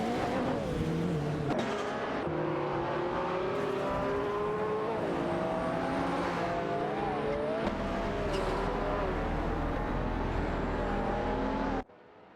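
Race cars in a video game, among them a Ferrari F40 LM and a McLaren F1 LM, roar continuously at high revs, engine pitch rising and falling through gear shifts with brief tire squeals and passing cars, loud and sustained until an abrupt cutoff.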